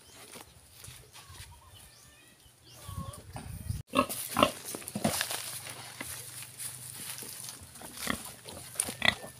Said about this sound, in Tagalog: So ito na ang pagkain ng ating inahing baboy.